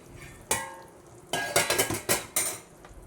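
Metal clanks of a lid and a pot of cooked rice, a single knock followed by a quick series of rattling clatters, close and loud.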